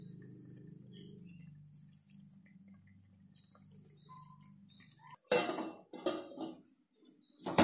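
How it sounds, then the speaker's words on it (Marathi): Stuffed brinjals simmer quietly under faint background chirps. Then a metal lid is set on the pan with a few loud, close clanks and rattles, followed by more clinks of metal against the pan. "त्याच्यावरती मी आता झाकण ठेवून 5 मिनिटं शिजू द्यायचं"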